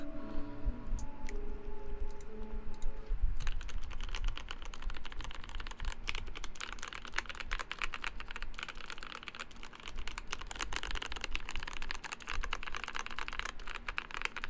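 Rapid clacky keystrokes on a mechanical keyboard, close and continuous, after a few seconds of quiet music in the background.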